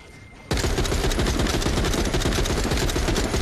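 An assault rifle opens up in The Walking Dead: Saints & Sinners after a brief quiet moment, firing a loud, continuous fully automatic stream of rapid shots close by that lasts until the end.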